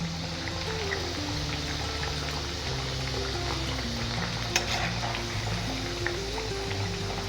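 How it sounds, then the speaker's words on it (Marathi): Aluvadi, colocasia leaf rolls, fry in hot oil with a steady bubbling sizzle and faint liquid trickles, a close, even texture with a couple of small clinks and no speech. "या आळूवड्या आपल्या चांगल्या आता तळल्या गेलेल्या आहेत"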